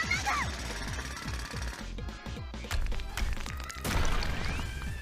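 A drill bores holes in walls for window renovation in an anime scene, giving a loud, continuous stream of rapid, rattling, jackhammer-like impacts with metallic clanks throughout.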